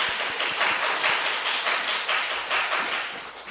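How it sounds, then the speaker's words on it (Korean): A church congregation bursts into steady, dense clapping to welcome a returning member during a Friday evening worship service, many hands overlapping in a continuous loud patter with no speech over it. "박수로 환영하겠습니다."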